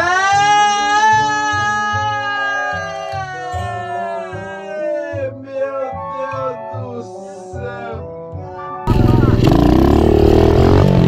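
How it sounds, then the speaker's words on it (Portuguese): A souped-up motorcycle engine revs in rising, wavering pulses, then bursts into a loud, roaring full throttle near the end, with voices talking over it. "A moto é envenenada!"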